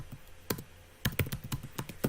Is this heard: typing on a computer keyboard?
yes